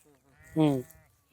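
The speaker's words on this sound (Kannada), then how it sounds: "ಇಲ್ಲಿರೋದಲ್ಲಿ ನಿಮ್ದೇನ ಕುರಿಗಳು? ಸರ್ ನಮ್ಮದೇ ಕುರಿ." A single sheep bleats once, short and wavering, at moderate distance, with faint background murmur around it.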